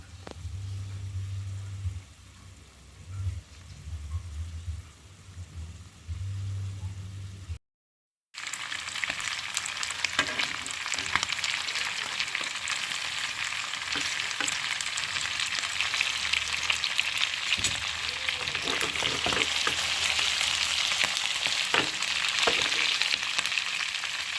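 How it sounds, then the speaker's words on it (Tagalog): Garlic longganisa sausages, boiled first, fry in a pan with a loud, continuous crackling sizzle after a brief low hum and a moment of silence. "Tapos, pagluto na, saka ko siya ipiprito."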